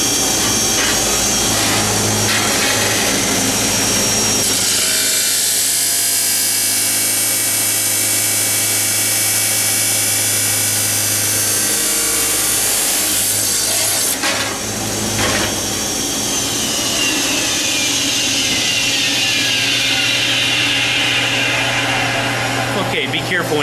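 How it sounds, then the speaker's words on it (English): A shop cut-off saw's abrasive wheel grinds through a piece of stock, giving a loud, continuous harsh roar with a rising whine that holds steady for the whole stretch. "Push the green button. It's going to get a little noisy here and we're just going to let the blade do the cutting."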